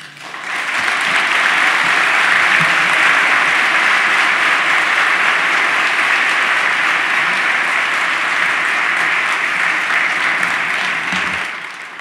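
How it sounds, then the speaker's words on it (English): Sustained audience applause follows a keynote on diversity in business, a loud, dense wall of clapping that swells within the first second, holds steady for about ten seconds, then tapers off. "Let's give another round of applause for Secretary of State Dennis Richardson."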